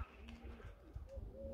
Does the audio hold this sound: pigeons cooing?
yes